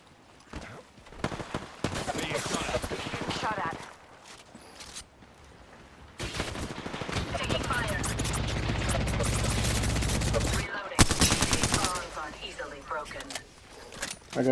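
Rapid bursts of gunfire crackle through an arena match in a shooter video game, with pauses between volleys and a louder sustained stretch of shooting. People talk over much of the action.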